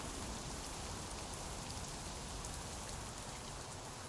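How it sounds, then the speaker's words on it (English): Rain falling in the Minecraft video game, a steady, even hiss of rainfall at low volume with no other sounds over it. "it's raining."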